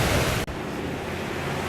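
Ocean waves wash in at Key Colony Beach in the Florida Keys, a steady broadband roar of surf with wind buffeting the microphone, close and loud throughout with a brief dip partway.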